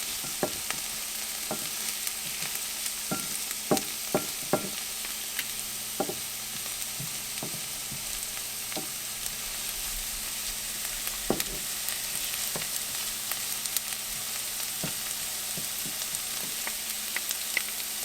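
Onions sizzle and fry in a pan over medium to high heat, with a steady close crackle broken by irregular scrapes and knocks as they are stirred, loudest in the first few seconds.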